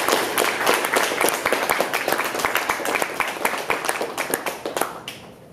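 Sustained applause and clapping from an awards gala audience, dense and steady throughout, tapering slightly near the end.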